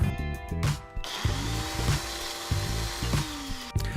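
An electric grinder whirs in short pulsed bursts as it breaks dried herbs into a coarse powder, the motor starting and stopping several times at close range.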